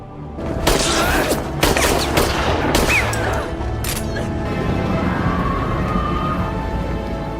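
Gunfire from a film scene: a gun is fired many times in a rapid burst of loud, echoing shots, followed by a lingering rumbling background.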